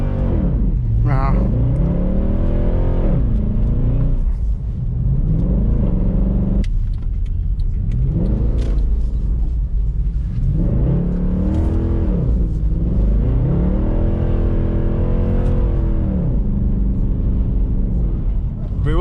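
A Mercedes C63 AMG with a 6.2-litre V8 drifts on snow, its engine revving up and down in repeated loud surges and sweeping pitch swings, with a voice talking over the roar.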